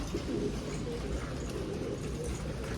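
A pied pigeon with feathered feet, just set down on the ground, gives faint, low cooing against a quiet background.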